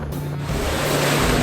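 An off-road vehicle ploughs into a water splash on a green lane in the Llangollen and Ceiriog Valley area, giving a loud, continuous rush of churning water and spray over a low engine drone.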